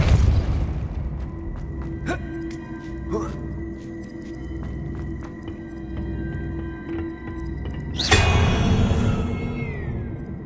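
The Depulso spell is cast in the Hogwarts Legacy video game, a sudden rushing burst with a deep boom that sweeps downward. It cuts through steady droning game ambience and a few earlier thuds.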